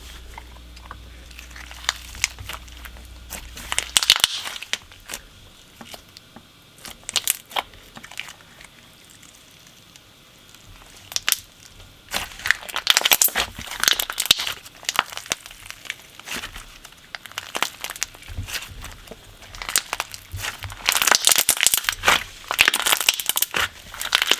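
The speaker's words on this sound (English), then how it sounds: "The slime is super thick and crunchy." Thick, crunchy, vanilla-scented slime is squeezed and crinkled by hand, giving bursts of close crackling, popping and crunching that come and go in clusters, with quieter stretches between them and no talk.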